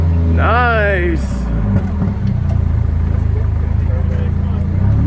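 Muscle car engine with a single big turbo revs hard at the start, its rising pitch sweeping up and falling away, then settles into a loud, steady rumble; a voice is heard over the opening.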